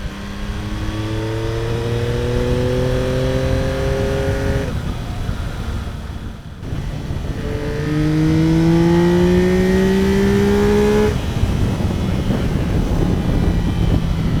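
A 2024 Yamaha MT-09 motorcycle with an acoustic amplifier intake accelerates hard through the gears, its rising engine howl climbing steeply with a drop at each shift, loud and close over heavy wind noise.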